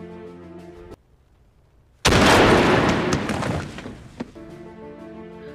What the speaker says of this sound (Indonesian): Dan Vasily langsung menembak headshot Mayor Konik.